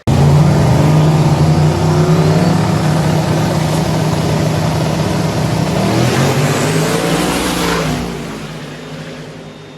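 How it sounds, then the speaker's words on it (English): Racing trucks in a race roar past at full throttle, a loud continuous engine drone with rising and falling pitch that fades slightly toward the end. "so it was a race with Cody Hoffman in the LSSS truck"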